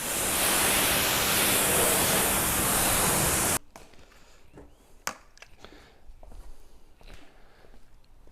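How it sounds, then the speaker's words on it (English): Water rinsing Iron-X off a BMW E36 begins as a loud, steady broadband hose spray for about three seconds, then cuts to quieter dripping, splashes and a few sharp knocks and handling noises close by. "just take your time and really give it a good rinse"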